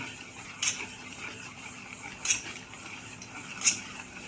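A single egg is beaten in a bowl for a henna hair mask, heard as three quiet, widely spaced metallic clinks against a faint background hum.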